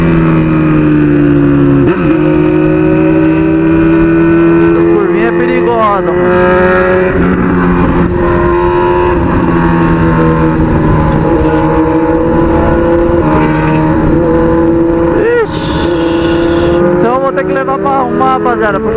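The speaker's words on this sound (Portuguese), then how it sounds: "agora a moto tá falhando muito na lenta" A Honda CB1000 motorcycle engine runs loud and continuous, its pitch climbing and falling through repeated revs with slight stumbles, while a person talks over it throughout.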